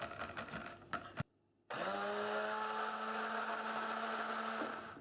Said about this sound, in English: we're going to use the stick blender to bring it to a light trace